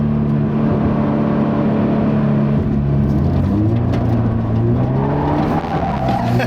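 A 2017 Toyota 86 drifting on a road in California, its engine roaring loud and steady with tires squealing through the slide, no voices over it.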